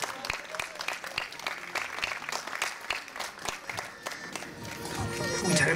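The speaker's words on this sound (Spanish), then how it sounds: "al licenciado Manuel García Aldoradí, a quien le brindemos un aplauso, por favor." Audience at a school graduation ceremony for a sixth-grade class in Barranco applauds steadily, with dense clapping spread across the whole stretch, voices mixed in, and the crowd noise swelling toward the end.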